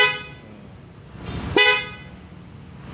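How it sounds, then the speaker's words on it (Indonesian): A Honda CR-V Prestige or Turbo car horn fitted to a new 2018 Honda Vario motorcycle gives one loud, near toot of about half a second over a low idling background. "klakson menggunakan klakson New Honda CR-V Prestige atau Turbo."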